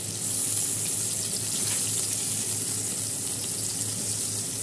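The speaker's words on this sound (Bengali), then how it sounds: "এই শাকটা ধুয়ে দে, তুই শাকটা ধুয়ে দে।" Tap water runs steadily from a faucet into a sink while leafy greens are washed for a home-cooked Bangladeshi meal, a continuous close hiss with no pauses and no voices.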